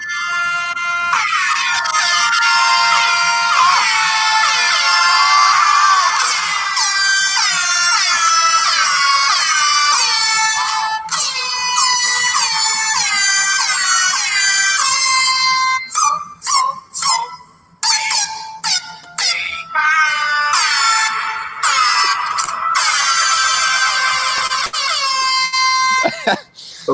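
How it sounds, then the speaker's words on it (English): Loud, repeated air horn blasts open a Disney-themed Friday sports show, with sliding, blaring tones that later break into shorter bursts separated by brief gaps. "I'm guessing that was the Disney special Friday air horn opening"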